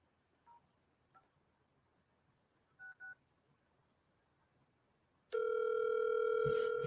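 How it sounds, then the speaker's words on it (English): A few sparse keypad tones beep faintly, then a loud steady tone sounds from an office phone on speakerphone as the call connects. "Wonder if we can get old Beasley's office on the phone. I'll stick this on speakerphone"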